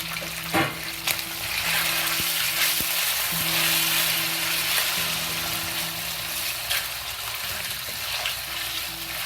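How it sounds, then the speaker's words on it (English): Shredded pork hitting hot oil in a wok, a loud, dense sizzle and crackle that holds steady from start to finish, with a few soft knocks of utensils, close up and with no voices. "We add this meat into the oil to fry it."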